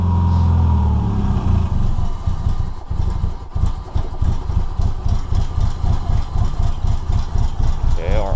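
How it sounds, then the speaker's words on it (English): A Mazda Miata engine idles close by with a steady, throbbing low rumble and regular pulsing beats, sitting loud and alone throughout. "it's actually running and idling"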